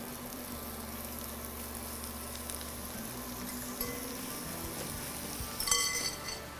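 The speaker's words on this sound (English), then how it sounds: "after about 2 minutes, it's time to get the beef down in the pan." Beef and asparagus sizzle in a hot pan, a steady quiet frying hiss with light clinks and stirring sounds growing a bit louder near the end, no talk.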